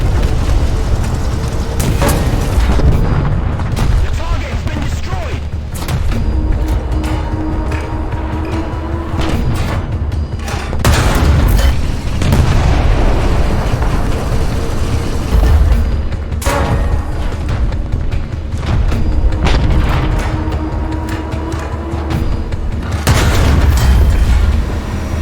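Heavy tank cannon rounds from a Maus and an Abrams bursting in a War Thunder battle, a string of loud booming impacts and rumbling blasts over steady low battlefield noise, with no talking.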